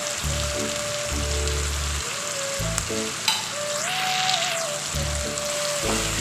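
Homemade chili powder sautéing in oil for a fish curry, a steady crackling sizzle with occasional stirring scrapes and clinks of the spoon against the pan, close and continuous.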